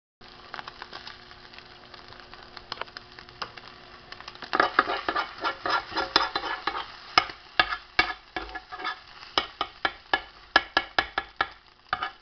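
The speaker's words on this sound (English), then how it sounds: "It's just stirring up the egg so I can cook it." An egg being stirred in a pan for a seafood tuna rice bowl, with rapid clicking utensil strokes that start light and turn louder and more rhythmic, along with a faint sizzle.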